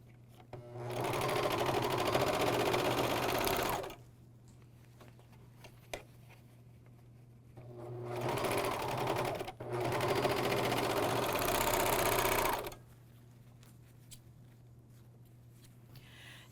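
AirThread 2000D professional serger sewing the shoulder seams of a bathrobe facing, two loud, fast bursts of rapid mechanical whirring separated by a quiet pause, each lasting a few seconds.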